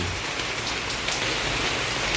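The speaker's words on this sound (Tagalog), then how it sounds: "umuulan pala ngayon. Nasa labas ako ng bahay." Steady rain falling outside a house, a dense continuous hiss of drops on surfaces, loud and even with no voices.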